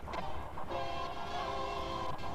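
A locomotive horn in the Train Sim World video game on the Oakville route sounds as a sustained multi-tone chord, loud and continuous with slight wavering, and no one speaks over it.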